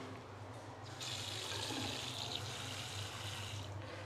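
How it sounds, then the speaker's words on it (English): Water runs freely from a tap in a school hand-washing area, a steady rushing stream that grows slightly stronger after the first second and continues alone. "The water, free flowing water."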